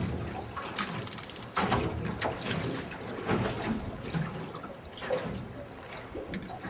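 Sea waves wash and splash around a small boat during a fishing trip, with irregular rushing bursts over steady wind noise, fairly close and moderately loud.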